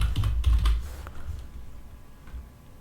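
Brief burst of computer keyboard typing, quick close clicks in the first second that trail off into a few faint taps and quiet.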